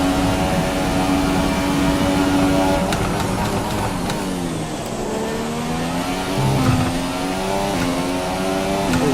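Formula 1 racing car engine in F1 2017 at the Russia circuit, a loud, continuous high-pitched whine that steps through gear changes, dipping and climbing again with another car close behind.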